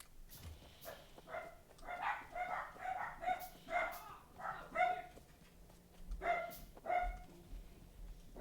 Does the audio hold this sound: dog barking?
yes